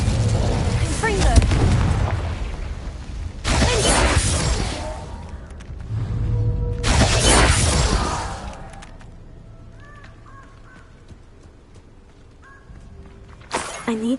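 Confringo explosive spell in the video game Hogwarts Legacy, a series of loud fiery bursts and booms in quick succession, fading to quieter game ambience with a final blast at the end.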